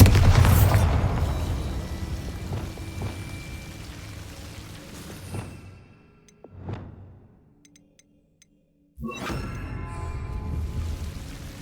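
Bombarda spell blasts in Hogwarts Legacy: a loud opening explosion rolls off into a long rumble, smaller booms follow, then a brief silence before another burst of noise.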